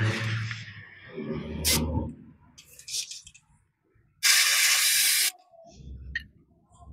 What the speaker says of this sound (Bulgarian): И сега ще ги напръскам.